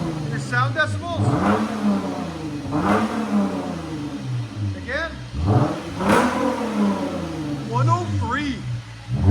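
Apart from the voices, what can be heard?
2015 Lexus GS 350 3.5L V6 revving with resonators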